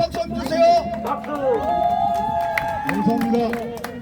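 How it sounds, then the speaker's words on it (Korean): A crowd at an outdoor political rally cheering and clapping, a dense wash of voices, whistles and applause that holds steady and loud for several seconds. "여러분 박수 한번 주세요. 박수."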